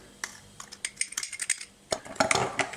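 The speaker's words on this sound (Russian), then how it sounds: "И тоже тщательно перемешиваем." A spoon clinks and scrapes rapidly against a small container while stirring yolk, baking soda and honey into melted butter, producing a close, busy run of metallic taps.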